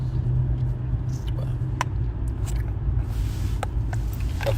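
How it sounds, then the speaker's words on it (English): Low, steady traffic rumble heard from inside a car stuck in slow traffic, a muffled continuous engine drone with a few faint clicks and knocks, no talk. "we kind of in traffic right now"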